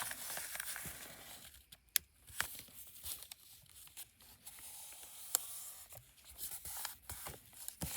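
Paper being folded by hand into a craft pocket, giving soft crinkling and rustling throughout with a couple of sharper creasing snaps, close and quiet.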